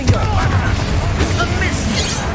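In a Harry Potter video game, a Confringo explosion spell goes off as a rumbling burst and crackle over a dense, noisy game background.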